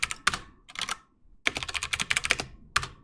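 A computer keyboard is typed in quick, close bursts of clicky keystrokes separated by short pauses while a code comment is written, with no other sound.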